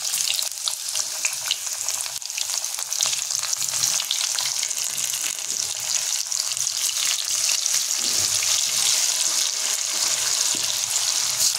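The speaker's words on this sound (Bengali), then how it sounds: "এঁচোড়ের টুকরোগুলো একে একে ভাজা করে নেব।" Boiled jackfruit pieces fry in hot oil in a wok, giving a steady loud sizzle with small crackles and occasional stirring, no talk.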